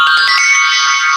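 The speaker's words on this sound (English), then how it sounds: "that's my phone, folks. I forgot to shut off the sound for it before I started." A mobile phone's ringtone sounds loud and close as a brief, sustained electronic tone.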